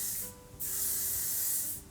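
Two bursts of hairspray from an aerosol can, a short hiss followed by a longer, steady spray, close and loud with no talking.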